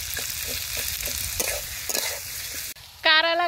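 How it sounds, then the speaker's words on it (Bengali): Chopped onion and green chili fry in a pan with a steady close sizzle and repeated stirring scrapes and taps, then the frying cuts off and a short high tonal call is heard at the end. "পেঁয়াজ কাঁচামরিচ খুব ভালোভাবে ভেজে নিব।"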